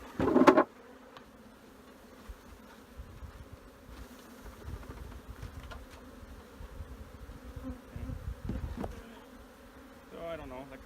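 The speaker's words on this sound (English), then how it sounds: "I've got a lot of bees here." Honeybees buzz steadily around a nuc being installed in a hive, a close, dense hum with occasional louder passes and a few knocks against the equipment.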